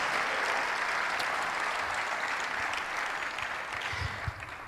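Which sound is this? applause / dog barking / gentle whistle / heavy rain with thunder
applause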